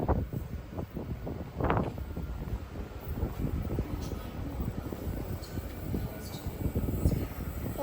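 Train arriving at Cheltenham station, a steady rumbling roll with rhythmic wheel clatter and some wind buffeting on the microphone, heard alone at moderate distance.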